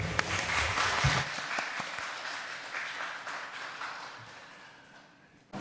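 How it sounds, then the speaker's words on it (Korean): Crowd applause fills the room at a Sunday church worship service, dense clapping that stays strong and then gradually fades toward the end. "하나님께 영광의 박수 올려드리겠습니다."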